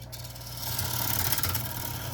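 Lathe turning a brittle eucalyptus bowl, the gouge catching in the wood: a steady, close whirring rasp with a low motor hum beneath, swelling louder midway with a few sharp bursts.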